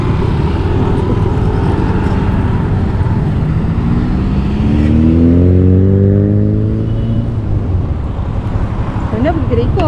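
Yamaha NVX scooter passing close by, with a loud engine drone that rises in pitch as it accelerates and then fades, against steady traffic rumble and with voices nearby.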